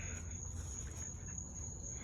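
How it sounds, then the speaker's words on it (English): Crickets chirping steadily through a quiet night outdoors, a faint, continuous high-pitched trill over low background rumble, with no talking. "The crickets, the birds that are nesting in the tree at night."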